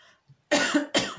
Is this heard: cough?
yes